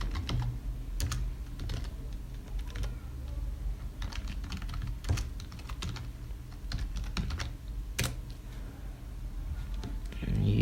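Someone types a command on a computer keyboard, a near, continuous patter of light key clicks in uneven bursts with a few louder taps, no talking.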